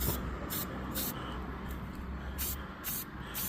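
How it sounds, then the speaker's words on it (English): Repeated short bursts of hissing spray from a nozzle applying wax rust-proofing coating in a 2025 Chevy 2500HD wheel well, close by, pulsing on and off in quick irregular squirts. "I'm going to do a little spraying"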